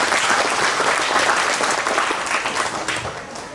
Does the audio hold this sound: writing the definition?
no